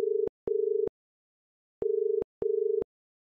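After an audio guest book phone's handset is lifted, a steady electronic tone plays in four short beeps, two pairs separated by a pause, clear and alone with no voices.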